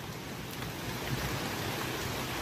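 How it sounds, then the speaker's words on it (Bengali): Rain just beginning to fall on tree leaves, a dense even patter like a soft hiss, steady and moderately loud throughout, with no voices. "ক্রমশ গাছের পাতা ভিজে উঠছে, এখনো সব গাছের পাতা ভিজে উঠে নাই বা ভিজার সুযোগ হয় নাই, কারণ বৃষ্টি মাত্র আরম্ভ হলো।"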